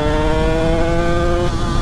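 A DTR 125 motorcycle engine runs at high revs, a loud, continuous buzzing drone with a steady pitch and only a slight shift near the end, heard up close without talk.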